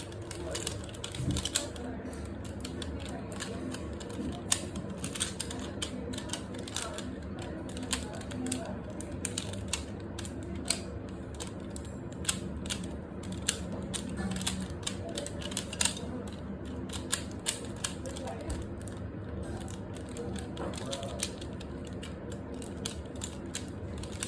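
A 3x3 pyramid cube puzzle is twisted in rapid plasticky clicks and ratcheting turns, steady and close, with occasional speech in the background.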